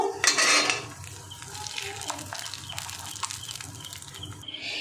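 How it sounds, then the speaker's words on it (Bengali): A spoon stirs tempering into peanut chutney in a bowl, giving scattered clinks and scraping against the dish alongside soft wet mixing sounds, fairly close with a faint background hum. "আমি প্রথমে চাটনির মধ্যে 1 চামচ দিয়ে দেব তরকা, দিয়ে একটু মিশিয়ে নেব"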